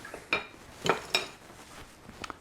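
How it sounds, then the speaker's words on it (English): Meringue being scraped off a stand mixer's whisk attachment, with a few faint metallic scrapes and clinks spaced apart in a quiet kitchen. "So let's get this off of this whisk attachment that we've got here."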